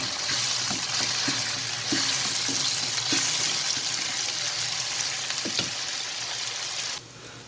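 Squid frying in a pan as tomato paste is stirred in, a dense steady sizzle with soft periodic scrapes of the stirring utensil, close and continuous until it drops off abruptly near the end, no voices.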